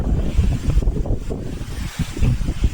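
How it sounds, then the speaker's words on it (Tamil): Manikyadhara waterfall in Chikmagalur pours in a steady, full-bodied roar of falling water, close and continuous, with gusts of wind buffeting the microphone throughout. "இதுதான் மாணிக்கத்தரா வாட்டர் ஃபால்ஸ்"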